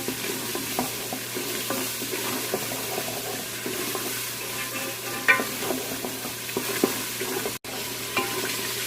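Spices and dry coriander frying in a pan for bottle gourd curry, a continuous sizzle under steady scraping and stirring of a spoon, close and moderately loud.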